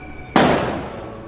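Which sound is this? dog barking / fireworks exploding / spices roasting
fireworks exploding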